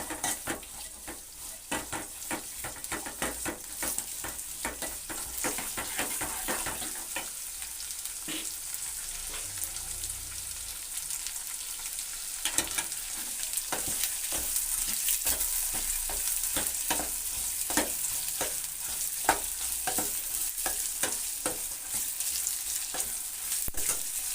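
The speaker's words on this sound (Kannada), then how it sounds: "ಕರ್ಬೇವಿನ ಸೊಪ್ಪು ಒಂದು ಮೆಣಸಿನ್ಕಾಯಿ ಬೆಳ್ಳುಳ್ಳಿ ಈರುಳ್ಳಿ ಒಗ್ಗರಣೆಗೆ ಹಾಕಿದ್ದೀನಿ ಸಾಂಬಾರಿಗೆ ಇದು" Curry leaves, green chilli, garlic and onion tempering in hot oil for sambar, a steady loud sizzle with frequent sharp crackles and occasional spoon stirs against the pan, with no talking.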